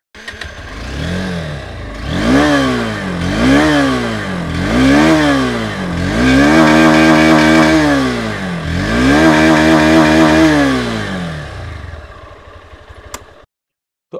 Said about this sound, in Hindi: एक बहुत ही प्यारा सा एग्जॉस्ट भी है यहाँ पे और इसका साउंड कुछ ऐसा है